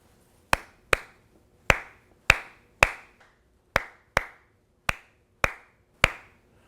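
Nine sharp hand claps in a clave pattern, two then three in the first phrase, repeated, crisp and close with short decays and no talking.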